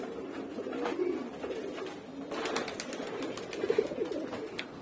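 Pigeons coo in soft, repeated throaty bursts as a whole flock is released together from a home loft, with light flapping and outdoor background noise.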